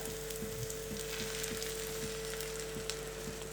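Beaten egg sizzles steadily in a hot pan while a sandwich is being made, a soft continuous frying hiss with small crackles, close and alone without talk.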